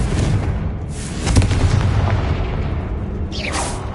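A Confringo blasting curse erupts in the Hogwarts Legacy game, a dense, roaring boom that swells near the start and lingers as a continuous rumbling blast with a crackling flare near the end.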